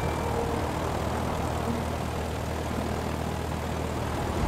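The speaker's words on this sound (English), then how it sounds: "Is this plane still operational?" Airplane engine in the Crumble game demo: a continuous loud, broadband droning roar with a low rumble, steady throughout with no voices.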